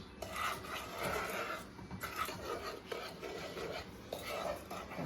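A peanut butter fudge mixture being stirred in a pan, soft repeated scraping and rubbing strokes of a utensil against the pan, faint and rhythmic, with no voices.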